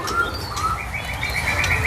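A young pair of split zombie birds calling close by, thin chirps and short rising whistles repeating over a low background rumble.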